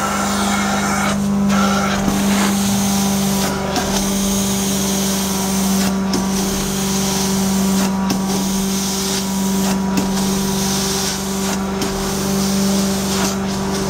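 An Amtex Inferno 3047 carpet cleaning machine roars loudly and steadily while vacuuming, with a strong low drone and hum, and brief whooshing dips recurring every couple of seconds as the wand is pulled across the carpet.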